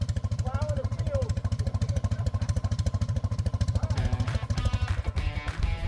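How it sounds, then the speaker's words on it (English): A 77-year-old airplane engine idling very low, a slow, even chugging pulse with a steady rhythmic beat like a tractor, and a few voices talking over it toward the end. "have never seen an engine idle this low and be perfectly comfortable with it"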